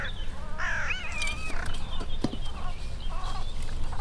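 Birds call on a working farm, with crow-like caws and poultry clucks and crowing mixed among smaller bird chirps, fairly close and steady over an outdoor background, with no talk.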